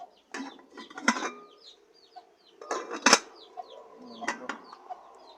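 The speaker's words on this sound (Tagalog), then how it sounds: "Kuha lang tayo ng kaldero." Metal clanks and scrapes as a cooking pot is handled outdoors for cooking over a wood fire, in several short bursts, with chickens clucking and birds chirping in the background.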